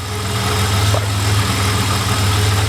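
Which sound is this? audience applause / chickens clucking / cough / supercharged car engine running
supercharged car engine running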